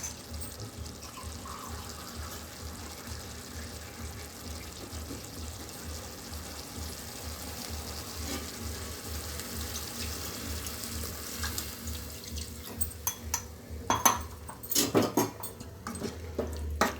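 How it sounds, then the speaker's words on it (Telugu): Water poured into a cooking pot of semiya chicken biryani with chili powder mixed in: a low, steady wash of liquid sound, with louder splashes and clinks near the end, and no talking. "కొంచెం వాటర్ వేసుకుందాము."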